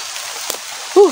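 Steady heavy rainfall hisses close by, with a short vocal sound near the end cutting through the downpour.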